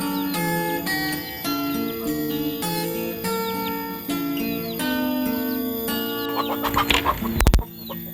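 Chickens in a coop cluck in repeated bursts while eating scattered dried rice, with a sharp louder flurry of clucks and rustling near the end.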